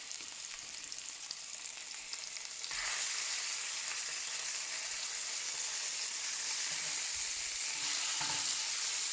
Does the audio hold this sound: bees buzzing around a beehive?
no